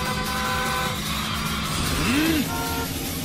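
Racing car engine in the video game Yakuza 5 during a one-lap race, a continuous buzzing engine drone with shifting pitch, alongside game music and effects.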